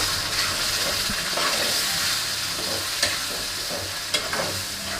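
Whole spices and wet ground coconut-garlic paste sizzle steadily in hot oil for a pomfret fish curry, a loud continuous frying hiss with occasional sharp crackles and stirring scrapes, no voices.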